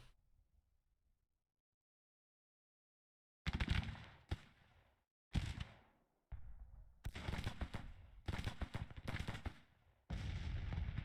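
Cannon artillery fire in the American Civil War strategy game Grand Tactician during the Battle of Suffolk, several sharp booms and bursts of rolling volleys after a quiet stretch, loud and close.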